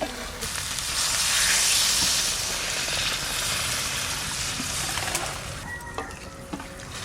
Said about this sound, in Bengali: কষানো হয়ে গেছে, এবার জল দিই।